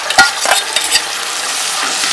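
Ground coconut paste is stirred into browned onions sizzling in a clay pot (manchatti) for Kerala fish curry with kudampuli, with a few sharp scrapes of a spoon early, then a steady hiss alone.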